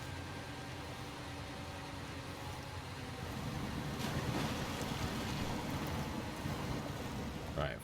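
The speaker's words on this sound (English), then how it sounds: "Yeah, because it's very windy here." Strong wind gusting across Island Lake in the Snowrunner video game, a continuous low roaring rush that grows louder midway, heard alongside faint engine and water-like noise.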